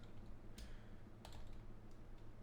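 Quiet keystrokes tap out code on a computer keyboard in a few short bursts and single clicks, with no one talking.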